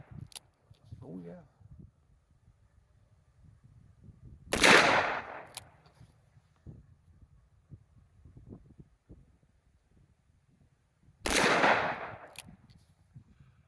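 A Ruger Security Six revolver with a 4-inch blued barrel, fired single action at 7 yards, with two loud, sharp shots several seconds apart and handling clicks and a quiet voice in between.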